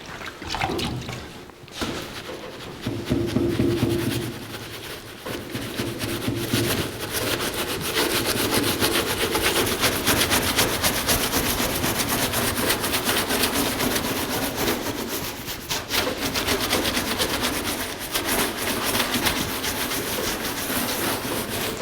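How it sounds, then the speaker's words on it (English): Steady close rubbing and scrubbing as caked dirt is worked off a 1982 Jeep CJ7 rear tire carrier, a continuous abrasive scraping that runs nearly unbroken for about twenty seconds. "Before we start bolting the tire carrier back on, I want to see if I can get some of this dirt off"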